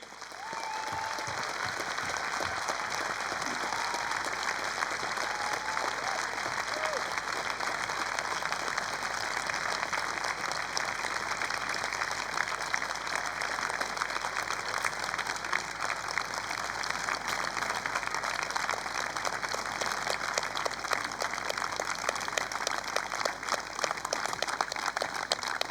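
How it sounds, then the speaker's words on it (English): Crowd at a UK BMX racing regional meet giving a long round of applause, dense, even clapping sustained for about twenty-five seconds. "we'll do a round of applause for Mark Teeton"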